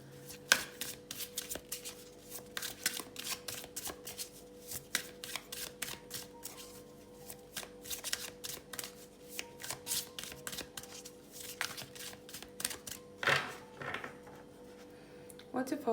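A deck of tarot cards is shuffled close up, giving rapid riffling flutters and crisp card snaps in uneven bursts for the whole stretch, quiet and near.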